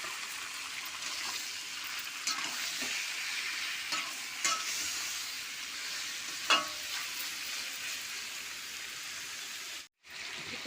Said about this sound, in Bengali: পেঁয়াজ আর চিকেনটাকে ভেজে নেবো।